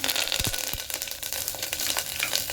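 Mustard, cumin, chana dal, garlic and curry leaves spluttering as they temper in hot oil, a steady close sizzle broken by sharp pops and crackles, with a few louder bursts early on.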